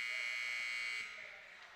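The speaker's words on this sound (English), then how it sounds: "And the buzzer." A loud, steady electronic buzzer sounds in an indoor rink at a girls' high school ice hockey game, holding for about a second before dropping away under crowd noise.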